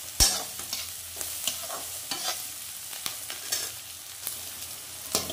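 Chopped onions sizzle steadily in a pan while cooking for Manchurian, with repeated scraping and clinking of a spoon stirring them at close range.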